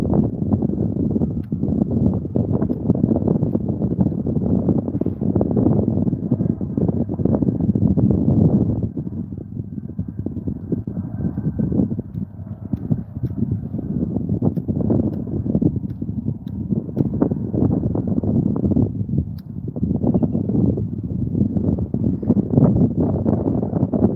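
Strong, continuous wind buffets the microphone with low rumbling gusts that swell and ease throughout; no talking is heard.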